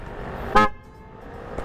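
Aftermarket horn fitted to a Honda PCX 160 scooter gives one loud, short toot, close to the mic and standing alone, followed by quiet background.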